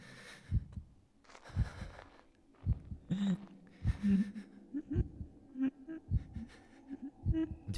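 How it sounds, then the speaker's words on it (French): Heartbeats in a horror video game, a slow regular series of low thumps repeating about once per second under a faint buzzing hum. "Avec les battements de cœur, t'entends ?"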